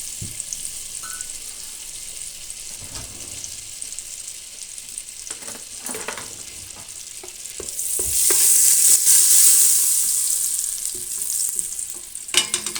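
Butter and oil sizzle steadily in a preheated pot for lentil soup, the hiss swelling louder midway, with occasional clinks and stirring close by.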